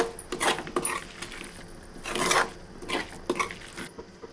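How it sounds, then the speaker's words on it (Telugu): A spoon scrapes and clinks around a pan while chili powder and garam masala are stirred into a curry, giving steady scraping with a few louder metallic swishes, close and without talk. "ఇప్పుడు మొత్తం బాగా కలుపుతున్నాము"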